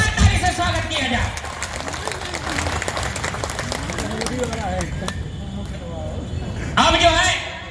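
Audience applause welcoming a minister at a political gathering, a crowd clapping loudly alongside voices and hubbub, swelling again near the end.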